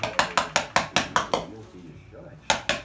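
A hammer taps a plate in about ten quick, even knocks, then pauses briefly before three more sharp hits. The sound is close and crisp, in a messy apartment being cleaned.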